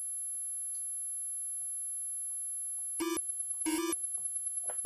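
Two short buzzy electronic bleeps from the Amstrad CPC464 game Hobgoblin sound a second apart over near silence, with a faint steady high tone and scattered soft blips.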